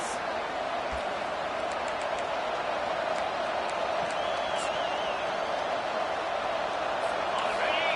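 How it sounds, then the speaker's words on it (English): A college football stadium crowd roars in a steady, dense wash of cheering that holds loud and unbroken throughout, with faint whistles and shouts rising near the end. "Listen to this crowd."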